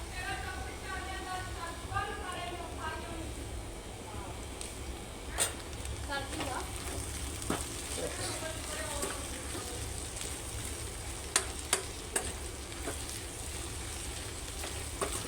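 Vegetable sabzi with salt and red chilli fries in a home kitchen pan, a steady soft sizzle and crackle running throughout with a few small clinks, while a person talks over it.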